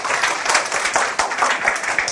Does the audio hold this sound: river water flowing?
no